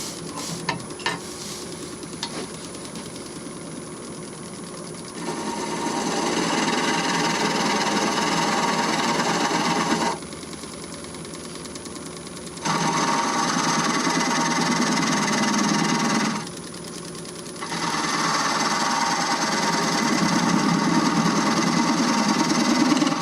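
A wood lathe turns an elm and walnut bowl as a spindle gouge cuts it, producing a steady rushing, whirring noise in long stretches broken by short, quieter gaps.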